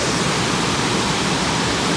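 Waterfall along the Pacific Crest Trail, a constant loud rushing roar of falling water, close and steady with no other sounds.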